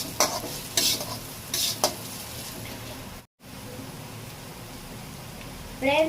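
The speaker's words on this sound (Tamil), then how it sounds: "அது வரைக்கும் நீங்கள் வந்து கிளறிட்டே இருங்க ஃப்ரெண்ட்ஸ்" Onions being sautéed and stirred in a pan, a close, steady sizzle broken by bursts of scraping from the stirring spoon and one brief gap of silence partway through.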